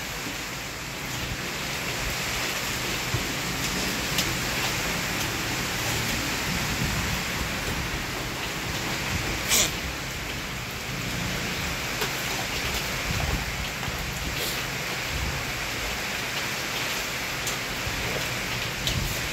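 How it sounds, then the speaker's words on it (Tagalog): Heavy rain pours steadily during days of flooding around a house, a dense continuous hiss with occasional louder patters and no talking. "Lakas na ng ulan."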